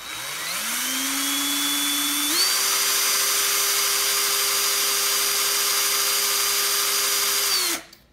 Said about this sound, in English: I'm holding it tight and I'm just gonna run the drill.